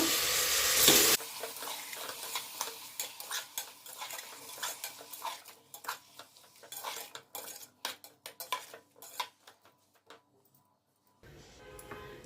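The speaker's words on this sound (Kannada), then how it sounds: "ಟೊಮೆಟೊನ ಸೇರಿಸಿದ ನಂತರ 1 ಟೀ ಸ್ಪೂನ್ನಷ್ಟು ಉಪ್ಪನ್ನು ಸೇರಿಸಿಬಿಟ್ಟು ಮಿಕ್ಸ್ ಮಾಡ್ಕೋಬೇಕು" Chopped tomatoes and a teaspoon of salt being stirred in a frying pan for tomato bath: a spoon clinks and scrapes against the pan in irregular bursts over a soft sizzle, loud at the start, with no speech.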